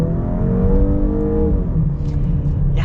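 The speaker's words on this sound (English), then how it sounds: "So let's get up and get our full-blown acceleration here." A 2021 Jaguar E-Pace 2-liter turbo four-cylinder accelerates hard, its engine note climbing loudly from inside the cabin before a shift, with no one speaking.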